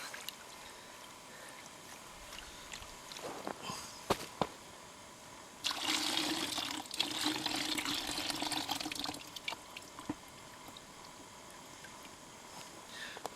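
Water poured during gold panning in the Australian outback, a steady splashing pour running for a few seconds amid quieter trickles and knocks, close and fairly soft.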